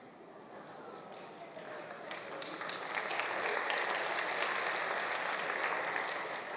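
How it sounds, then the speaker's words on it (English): Church congregation clapping during a sermon, starting moderate and swelling louder around the midpoint into a full, sustained round of applause. "I know you're clapping for the giraffe and not for me"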